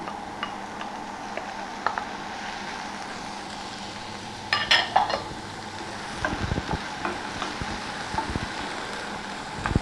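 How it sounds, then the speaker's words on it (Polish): Soft sizzling of ham frying in a hot pan with mushrooms, occasional clinks and stirring scrapes, a busier burst of frying in the middle. "Szynkę smażymy około jednej minuty"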